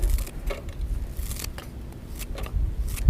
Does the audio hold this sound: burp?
no